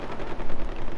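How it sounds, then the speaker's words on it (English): A burst of rapid gunfire in the video game Far Cry 4 rattles for about a second, loud and dense like automatic weapon fire, with no voices. "Oh, I can hear gunfires."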